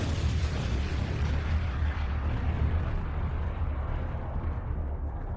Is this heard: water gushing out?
no